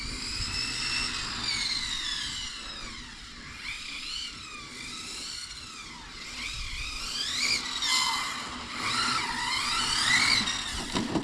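A Hobao VTE carbon RC car drives and drifts on a track, its motor whining in repeated rising and falling sweeps as it speeds up and slows, loud and continuous for about eleven seconds, with no voices.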